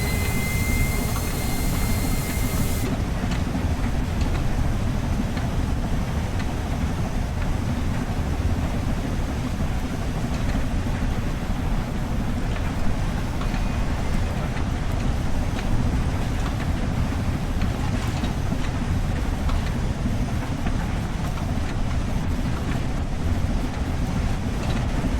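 A steam locomotive runs in the Train Sim World 3 simulator, giving a steady, loud low rumble and roar with a brief high hiss at the start and no talking over it.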